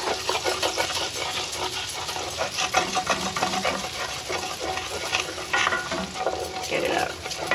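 A utensil scrapes and stirs pan drippings for shrimp and crab mac and cheese. Continuous close sizzling runs under repeated scraping strokes throughout, with no talk.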